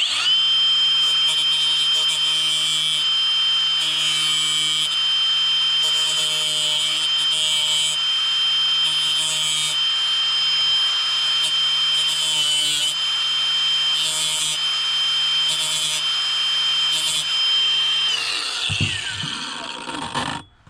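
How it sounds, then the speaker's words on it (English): Battery angle grinder cutting a metal fitting on a 6x6 Perentie ambulance, a steady high-pitched whine held continuously for about eighteen seconds, then spinning down and stopping near the end, close and loud. "battery grinders have come a long way, haven't they?"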